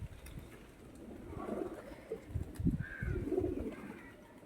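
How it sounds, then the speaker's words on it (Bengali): Pigeons coo softly in the morning, a few low, rounded coos rising and falling close by against an otherwise quiet background. "ভিডিওটা দেখো দেখো সব পায়রাগুলো সকালবেলা।"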